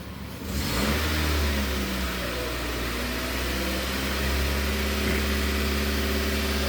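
A 2006 Nissan Y11 AD with a QG15 e-throttle engine revs up under acceleration, a loud, steady mid-pitched engine drone that holds for several seconds after a brief quieter start, with no talking.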